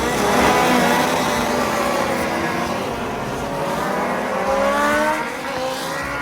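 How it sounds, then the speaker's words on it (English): Old Formula One racing cars run on track at the Goodwood Revival, a loud, close, continuous engine roar with rising and falling revs as cars accelerate and pass, briefly dipping before surging again. "You've got things like old Formula One cars as well, which the sound of was incredible."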